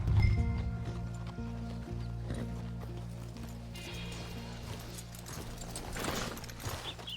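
Horse hooves clip-clopping on the ground in Red Dead Redemption 2 as riders approach the stables, irregular steps over a low musical bed with some movement noise, moderately close.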